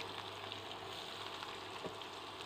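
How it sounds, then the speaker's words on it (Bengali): Fish sizzling steadily in hot oil in a pan, a continuous dense crackle with a soft stir or shift near the end, no talking. "এখন আমি মাছটা ভেজে নিচ্ছি আর এদিকে একটু বেগুনও ভেজে নেব"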